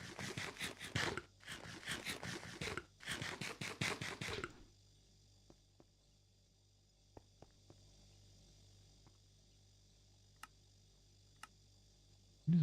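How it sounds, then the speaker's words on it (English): A vacuum freezer machine from the GregTech modpack in Minecraft runs with a loud rhythmic burst of mechanical noise in three pulses, then falls to a faint hum with scattered soft ticks. "It's the vacuum freezer itself."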